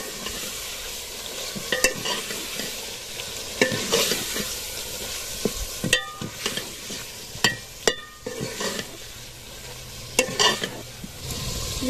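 Spoon scraping and stirring masala curry in a sizzling pan in a village kitchen, continuous frying hiss with irregular metallic clinks throughout, no talk.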